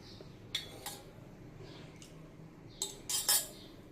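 A spoon scrapes and clinks against a bowl while kheera poha ingredients with salt are stirred together, sounding as a few sharp, close metallic taps and scrapes spread over a quiet background.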